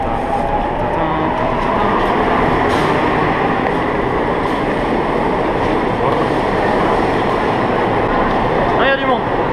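A Seoul subway train riding along, with a loud, steady rumble of wheels and carriage noise throughout and a brief squeal near the end; people talk over it.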